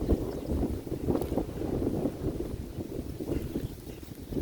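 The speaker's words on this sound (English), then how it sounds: "They are heavy with peas and the wind is just doing some damage." Gusty wind buffets a vegetable garden where tall pea vines heavy with pods are being torn loose, a steady rumbling outdoor wind with microphone buffeting throughout.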